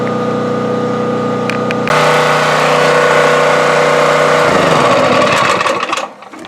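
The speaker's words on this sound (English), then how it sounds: "generator's working perfect for the well pump" A generator engine runs loud and close with a steady droning hum, then its pitch drops and it winds down and cuts out near the end.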